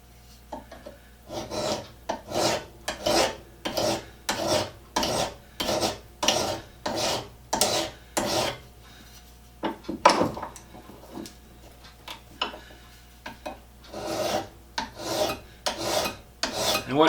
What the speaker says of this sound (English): Then I'm going to draw file this .